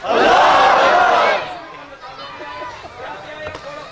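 A crowd at a religious gathering roars a loud, brief collective chant that cuts off after about a second and a half, leaving softer murmuring and scattered voices.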